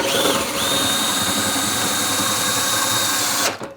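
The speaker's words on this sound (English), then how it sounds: "I'm just going to use a drill because it makes less noise for the video." An electric drill drives the crank of a scissor lift, a loud, steady, close motor whine that holds for about three and a half seconds and then winds down abruptly; no one talks.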